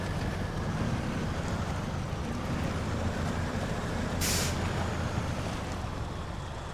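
A truck in the SnowRunner video game pushes through dangerous water, with a steady low engine rumble under continuous rushing, splashing noise and a brief bright hiss partway through, and no voices.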